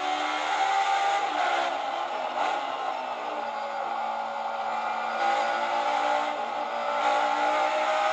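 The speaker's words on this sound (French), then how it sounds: "Je vous laisse profiter du V10 atmosphérique de la machine japonaise" Naturally aspirated V10 of a Toyota prototype racing at the 1993 Le Mans 24 Hours, heard from onboard as a loud, steady high-pitched wail with slight rises and dips in pitch as the driver works the throttle and gears.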